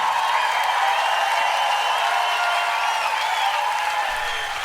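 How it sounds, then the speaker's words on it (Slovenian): Audience applause for the speaker's father at a music evening, a continuous wash of clapping that holds steady and then eases slightly near the end. "En aplavz za mojega očeta."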